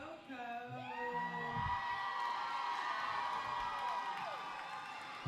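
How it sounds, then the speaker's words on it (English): A roller derby crowd at a junior championship bout cheers and whoops loudly, a dense, sustained roar of many voices with high shouts rising above it throughout. "And listen to that crowd."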